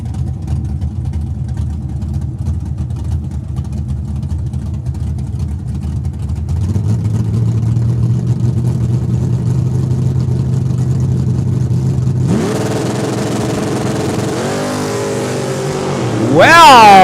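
Drag race cars including a Camaro running at Saskatchewan International Raceway in Saskatoon, a steady engine drone building, then a louder car revving up near the end, with an announcer talking over it.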